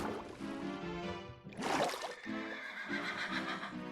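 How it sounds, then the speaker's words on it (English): Horses in the Minecraft video game whinnying, a drawn-out neigh followed by a sharp burst, with softer hoof and water-like game sounds around it, fairly quiet overall. "Yeah, I hear my horses."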